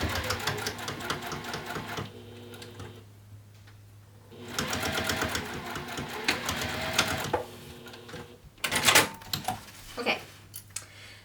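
A sewing machine stitches an apothecary bag with a zipper, running in two long steady bursts of rapid mechanical whirring with a pause between them, then a few shorter clattering bursts at close range.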